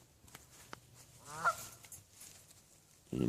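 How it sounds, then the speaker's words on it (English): A goose outdoors gives a single faint, distant honk amid quiet early-morning ambience, with a few soft knocks before and a louder rustle at the end. "You can probably hear him. Probably can't see him, but there's a goose out here."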